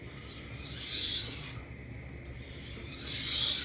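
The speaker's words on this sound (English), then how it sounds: "I'm just going to do some very light strokes. Burr minimizing strokes." A kitchen knife is drawn in light burr-minimizing strokes across an Atoma diamond sharpening stone, two gritty rasping passes close up with a short quiet gap between.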